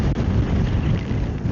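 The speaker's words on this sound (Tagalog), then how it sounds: "Grabe ang lakas ng hangin." Strong typhoon wind (Typhoon Nando) roars and buffets the microphone of a rider on a Yamaha NMAX motor scooter in rain, a loud, constant rumbling rush with no break.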